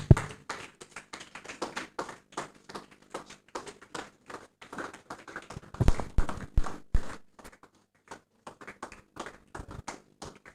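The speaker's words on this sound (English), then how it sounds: "A round of applause and a standing ovation for him while he walks in." Scattered, uneven clapping from an audience at a talk on working with AI as the speaker walks in; sharp claps come in irregular bursts, swelling briefly midway and then thinning out, with no one speaking.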